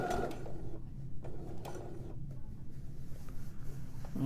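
A sewing machine stitches a gusset seam through fabric, running quietly in short, uneven bursts up to the seam's edge. No one talks over it.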